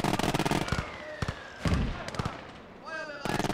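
Mortar fire in the World War II game Gates of Hell Ostfront, a rapid string of sharp explosive blasts and booms, some close and loud, others lighter, with a player talking in between.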